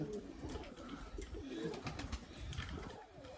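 Crested pigeons, red-pied, black-pied, red, yellow and lemon varieties, coo in soft repeated low calls close by, with quiet voices and rustling in the background.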